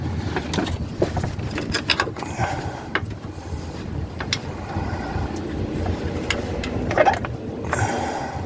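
A hand ratchet clicks rapidly and steadily to start a bolt during an evap canister replacement on a car, heard close and continuous with small metallic rattles throughout.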